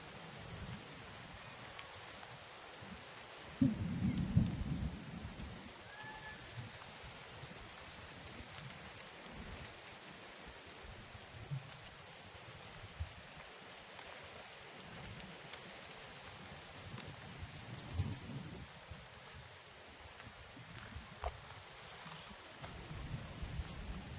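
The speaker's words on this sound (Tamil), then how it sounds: "சம்ம செம்ம மழைங்க ஆனால் எதிர்பார்க்கவே இல்லை அதாவது கண்டினியூஸாக பேஞ்சிக்கிட்டு இருக்கு" Steady, unbroken heavy rain hiss in a village near Tiruchengode, Tamil Nadu, fairly faint and distant, with a low rumble beneath it and a brief louder splash early on. No voices.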